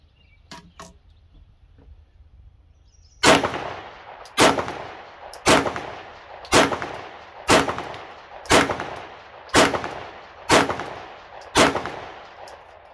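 Nine Glock pistol shots ring out one at a time at a steady pace, each a sharp, loud crack with a short echoing tail, after a few seconds of quiet handling.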